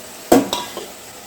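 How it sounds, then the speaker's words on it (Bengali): Pieces of fried fish drop into a boiling curry, giving two or three close splashy thuds followed by a faint low sizzle. "ঝোলটা ফুটে গেছে, এবার মাছগুলো দিয়ে দিই।"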